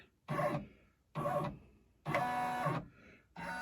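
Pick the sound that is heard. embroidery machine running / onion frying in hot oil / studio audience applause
embroidery machine running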